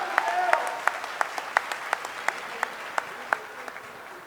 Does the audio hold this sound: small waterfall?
no